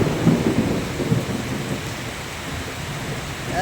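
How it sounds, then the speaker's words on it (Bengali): Thunder rumbles low and deep at the start of a thunderstorm over Mobarakpur Colony in Tehatta, Nadia, fading under steady heavy rain that hisses throughout. "বজ্র এখনো পড়ছে, দেখো।"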